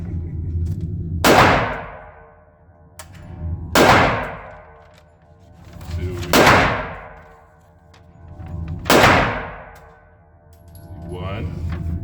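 Glock 20 10mm pistol shots ringing off steel targets: four evenly spaced reports, each a loud crack with a bright metallic clang that decays quickly, recorded close by at an outdoor range.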